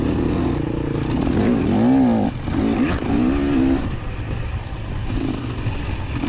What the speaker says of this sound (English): I stayed in third gear because I was hoping at the top of the hill I could just floor it.